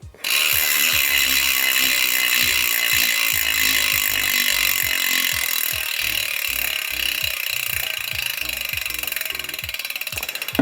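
A new bicycle wheel's freehub with a standard 36-tooth ratchet spins, giving a loud, close, continuous buzzing ratchet whir with rapid regular clicks that slowly ease over about ten seconds.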